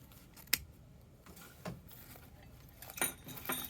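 Scissors snipping the tails of ribbon on a red bell craft kit bow, a few short, crisp cuts spaced apart, quiet and close with no talking.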